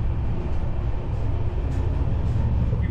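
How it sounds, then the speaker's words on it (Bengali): Interior of a Vistadome glass-roofed passenger train running through tea gardens in the Dooars on the NJP–Alipurduar route, a steady low rumble and rolling noise, loud and continuous, with no voices. "মাঝখান থেকে আমরা ট্রেনে করে ছুটে চলেছি"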